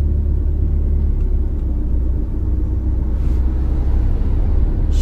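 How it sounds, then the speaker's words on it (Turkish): A car pulls away from a traffic light during a driving lesson, giving a steady, loud, low engine rumble and road noise from inside the cabin, with no talk. "Araç kalktı, yürüdü."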